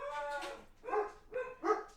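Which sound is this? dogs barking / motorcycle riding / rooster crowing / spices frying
dogs barking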